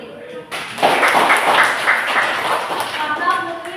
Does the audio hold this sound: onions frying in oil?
no